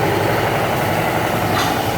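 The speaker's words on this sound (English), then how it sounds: "this is the Injen exhaust 3-inch, modified." Steady, loud, close idle rumble from a 2018 Honda Civic Hatchback fitted with a modified Injen 3-inch hybrid exhaust and Xcelerator muffler, holding an even drone with a slight lift near the end.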